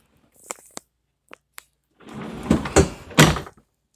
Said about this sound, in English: And there's a pull-out pantry.